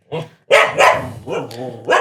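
A dog barks indoors, a quick run of four or five loud, close barks with short gaps between them.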